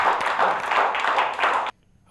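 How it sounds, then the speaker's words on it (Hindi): A crowd at a poetry gathering claps enthusiastically for under two seconds, then the applause cuts off abruptly into near silence. "जोरदार तालियों से आप आमंत्रित करें"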